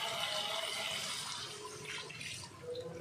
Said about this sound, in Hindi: मैं इसमें 3 गिलास यखनी ऐड करूँगी और 1 गिलास पानी इसमें ऐड करूँगी।